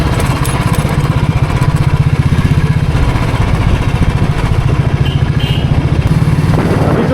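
A Royal Enfield Classic 350 motorcycle on the move, its engine thumping in a steady, loud, close pulse that carries all the way through, with a brief softer stretch near the end.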